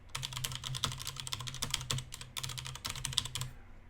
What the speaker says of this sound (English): I'm going to type in this URL.